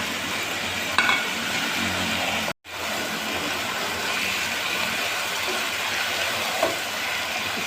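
Spaghetti being stirred through masala, soy sauce and chili sauce in a frying pan, a steady dense sizzle with scraping stirs, briefly cut to silence partway through.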